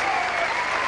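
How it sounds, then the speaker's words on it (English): Football crowd at a Tottenham tribute match rising for a standing ovation, sustained dense applause from a large stadium audience, continuous and loud. "the crowd rises, give the player a standing ovation"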